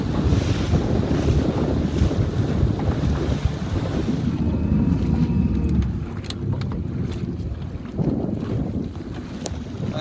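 Strong wind gusting over a 29er sailing dinghy during a race, with constant broadband buffeting and splashing water, easing somewhat after the midpoint before picking up again.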